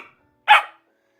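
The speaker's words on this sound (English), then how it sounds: "Stop barking." A dog gives a single sharp bark, loud and close, in an otherwise quiet room.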